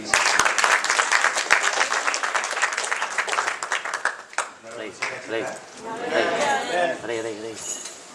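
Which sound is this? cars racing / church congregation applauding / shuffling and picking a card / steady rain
church congregation applauding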